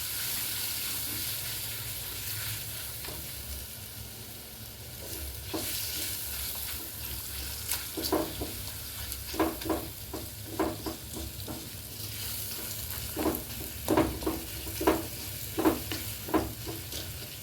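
Mango pulp being stirred with masala in a frying pan, soft sizzling throughout while a spoon scrapes in a steady rhythm of repeated strokes that grow more regular toward the end, no talking.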